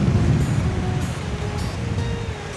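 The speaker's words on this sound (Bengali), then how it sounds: "এই যে পদ্মা নদীর চরে ঢেউ" Waves wash against the sandbar shore of the Padma river during a Kalbaishakhi storm, making a loud, continuous low roar and rumbling surge with gusty noise. It is close and uninterrupted, with no voices.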